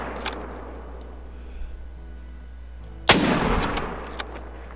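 One sharp hunting rifle shot rings out in theHunter: Call of the Wild during an ibex hunt, a sudden loud crack after a quiet stretch, then a short rumbling tail and a faint later click.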